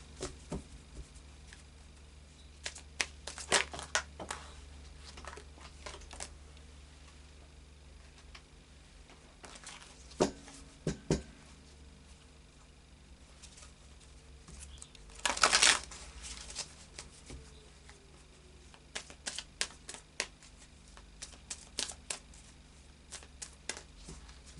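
Faery oracle cards are shuffled by hand, giving soft papery riffles and patters with a few sharper slaps and taps over a quiet room. It goes on for about twenty-five seconds with no voice.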